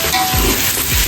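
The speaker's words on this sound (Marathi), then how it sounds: "हे बघा टोमॅटो टाकले मित्रांनो. त्यांना पण आता थोडं शिजून घ्यायचं." Tomatoes sautéing in a hot pan for biryani, a loud steady sizzle with a couple of soft stirring scrapes, close and continuous with no voices.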